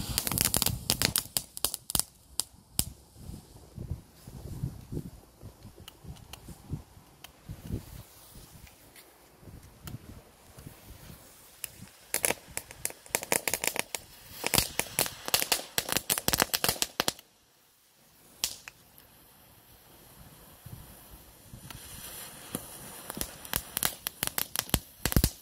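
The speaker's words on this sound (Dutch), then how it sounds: "Gaan we beginnen met de knetterrotjes." Small Leslie crackling firecrackers (knetterrotjes) from 2022 going off outdoors, a dense run of sharp crackles and pops that comes in bursts, drops briefly to near silence, then resumes crackling loudly.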